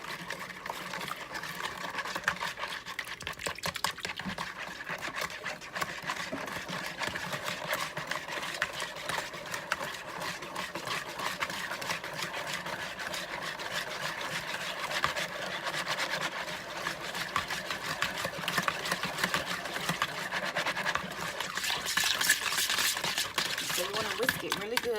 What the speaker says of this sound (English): You want to whisk that together.